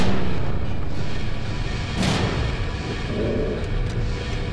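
Shotgun blasts in the horror video game Bloodline: Dormant Evil, a loud booming burst around the two-second mark over continuous dense game noise, with no voices.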